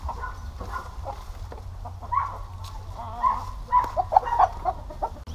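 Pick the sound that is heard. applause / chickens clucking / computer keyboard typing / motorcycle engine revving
chickens clucking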